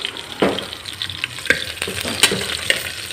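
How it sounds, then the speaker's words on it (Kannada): Onion and green jackfruit pieces fry in hot oil in a home kitchen, giving a steady close sizzle with sharper crackles and pops and the scrape of stirring now and then. "ಈರುಳ್ಳಿ ಹಾಕಿ ಹಲಸಿನಕಾಯಿ ಹಾಕಿ ಹೀಗೆ ಫ್ರೈ ಮಾಡ್ಕೋಬೇಕಾಗುತ್ತೆ"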